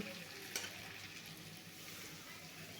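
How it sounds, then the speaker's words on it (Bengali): Potatoes and squash frying in a pan of oil as water is poured in, giving a steady, close sizzle that spits across the whole short stretch with no talking. "এবার কষানো হয়ে গেছে এবার দিয়ে দিচ্ছি জল"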